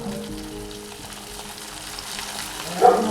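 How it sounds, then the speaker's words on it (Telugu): Chicken 65 pieces deep-fry in oil on a low flame with a low, steady sizzle and bubbling, and a brief louder splash near the end as another piece drops in. "ఇట్లా ఒక్కొక్కటి మన పకోడీలు వేసుకున్నట్టు ఒక్కొక్కటి తీసి సిమ్లో ఫ్రై చేసుకోవాలి మనం"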